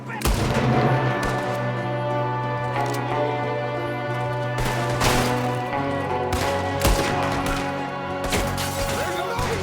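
Gunfire during a shootout in Red Dead Redemption II, loud sharp shots cracking out in irregular bursts over a constant droning background, with some voices mixed in.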